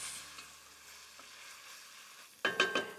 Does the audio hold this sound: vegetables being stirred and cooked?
yes